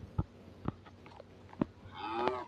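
A cow in the video game Minecraft gives a few short soft grunts and then a drawn-out moo near the end, with no voices.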